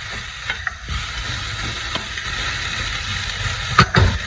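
Chopped rhubarb is stirred into sautéed onion and garlic in a hot pan, a soft continuous sizzle broken by a few scraping stirs and clinks of the utensil against the pan, the loudest near the end.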